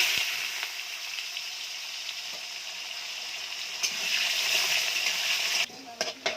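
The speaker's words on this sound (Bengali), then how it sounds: "এই জন্য আলুটা ভেজে নিচ্ছি।" Potatoes frying in a pan on a wood-fired stove, a steady bright sizzle that runs unbroken and close, dropping away near the end into a few faint crackles and pops.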